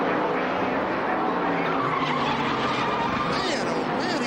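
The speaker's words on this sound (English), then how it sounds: "he locked up those rear brakes" A Winston Cup stock car skids with its rear brakes locked, a steady loud tire scrub and squeal running the whole stretch while its engine roars beneath.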